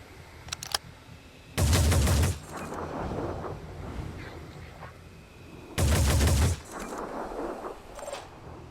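Gunfire in the turn-based strategy game Phoenix Point comes in two loud, dense bursts of rapid automatic shots a few seconds apart, with a lower rumble of battle ambience between them.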